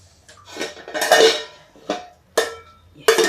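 A metal lid clanks onto a cooking pot of veg pulao, with a few distinct clattering knocks as it is set and adjusted, close and fairly loud.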